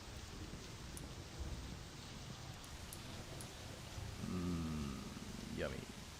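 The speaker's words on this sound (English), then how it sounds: "Hey, kind of raining." Rain falls steadily in the video game My Summer Car, a dense close hiss with low rumbling underneath; a voice speaks briefly partway through.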